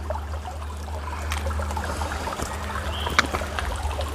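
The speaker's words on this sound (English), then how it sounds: "A nice little stream, a little water feature for today." A small stream trickles and babbles along a trail, a faint, steady flow of water with no voices.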